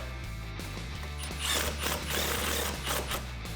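Ratcheting clicks from a hand wrench snugging a bolt on a Ford Performance GT350 half shaft being installed on a 2015-2019 Mustang, steady mechanical clatter close up with a busier burst midway, no talking.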